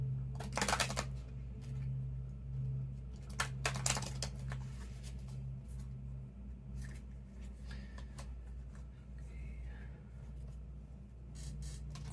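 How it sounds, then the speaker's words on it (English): An oracle card deck being shuffled close up, with repeated bursts of riffling and crisp card slaps separated by softer handling noises and a low steady background hum. "Let me shuffle it a few times off screen so it doesn't push cards away."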